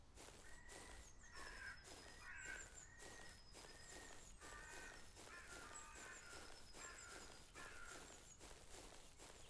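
Crows caw repeatedly in the Yosemite Forest Ranger video game, over steady rhythmic running footsteps that continue throughout.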